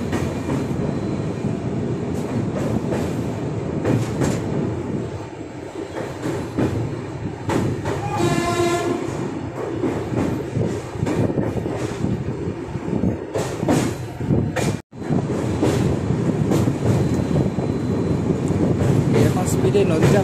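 A passenger train runs over a rail bridge across a river near Kolaghat, giving a steady, loud rumble and rattle of wheels for the whole stretch, with a brief tonal squeal or horn partway through.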